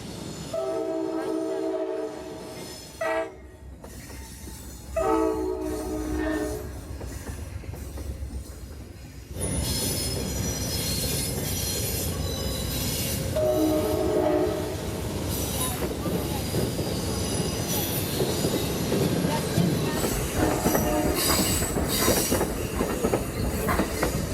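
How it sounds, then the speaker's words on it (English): The southbound Amtrak 97 Silver Meteor passenger train passes in Folkston, Georgia, sounding repeated loud horn blasts over a steady roar of wheels and clattering cars that builds and continues, with brief wheel squeal. "here came Amtrak 97, the southbound Silver Meteor"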